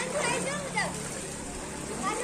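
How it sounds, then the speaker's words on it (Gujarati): Monsoon rainwater flows and splashes in a steady, close rush while people talk over it. "અને ભાઈ આ સાઈડથી ફૂલ પાણી આવે છે અમારે"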